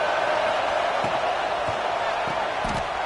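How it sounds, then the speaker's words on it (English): A college football stadium crowd in a video game roars as a dense, continuous wash of cheering, loud and steady throughout, with a few dull thumps underneath. "This crowd bringing the energy and noise early."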